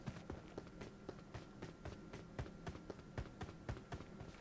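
Footsteps pad nearby in PUBG Mobile, a quick regular run of soft thuds repeating evenly, faint and close with no other sounds over them.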